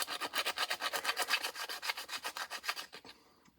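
A gouged Honda GX160 engine part is sanded with sandpaper by hand. Rapid, regular back-and-forth rasping strokes, about four per second and close up, continue for three seconds and then stop.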